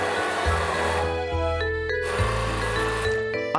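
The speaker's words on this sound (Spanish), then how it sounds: "Mezcla en una jarra para triturar la carne de mango, queso en crema, aceite de oliva," A blender purées mango flesh, cream cheese, olive oil, salt and pepper in a jug, its steady motor whirring loud and close with shifting pitch as the mixture thickens.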